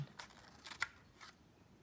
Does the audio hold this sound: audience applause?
no